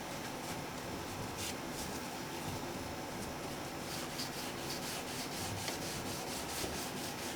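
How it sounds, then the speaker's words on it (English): Steady, rhythmic wet sanding strokes scrape across the finish of a Washburn guitar, continuous and fairly close, with no talking. "I'm just going to kind of do some wet sanding here."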